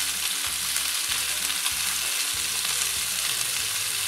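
A firm fish fillet fries skin side down in a pan, giving an even, continuous close sizzle with a faint low rhythmic hum beneath and no voices.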